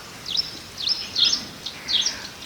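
Small birds chirp in a village, short high twittering calls repeating in clusters about every half second, fairly close and clear over quiet background, with no talking.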